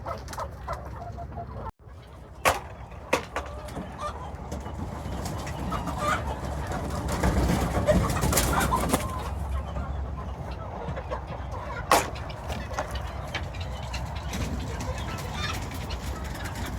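Chickens cluck softly inside a farm coop, a low scattered chatter of hens with a few sharper calls over a steady background.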